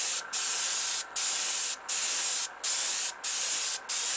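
A Testors Aztek airbrush sprays acrylic paint onto a model Super Stock car body in steady hissing bursts, six short breaks between them, close to the microphone.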